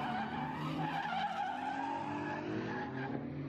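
Ford Mustang drifting on stock steering and knuckles, its tires skidding and squealing in a sustained, loud screech over a roaring engine, continuous for the whole stretch with no talk.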